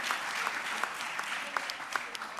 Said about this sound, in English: a big round of applause for Karen would be very much appreciated